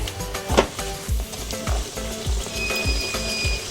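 Steady sizzling of chicken Mughlai frying in a pan, with soft scraping and stirring knocks recurring every half second or so.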